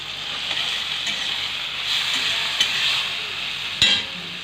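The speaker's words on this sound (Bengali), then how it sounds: "এখন মশলাগুলো দিয়ে দিচ্ছে। ভালো করে কষিয়ে নেবে।" Spices sautéing in a pan for a raw jackfruit (echor) curry: a steady, close hiss of frying with occasional stirring clicks and a sharper scrape near the end, no voices.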